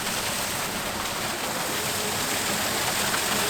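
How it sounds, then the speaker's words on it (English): Waterfall Beach waterfall in William Bay National Park, fed by a year-round spring, pours onto the beach as a steady, close, broadband rush of water with no pauses. "So this here is the waterfall,"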